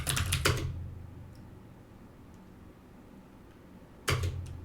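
Code being typed on a computer keyboard, a quick burst of key clicks, a quiet pause, then another short burst of clacking close by.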